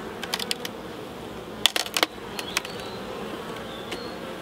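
Honeybees buzzing around an open beehive during a UK hive inspection: a steady low hum of many bees throughout, with a few close, sharp clicks and taps from the wooden hive parts, fairly quiet and without speech.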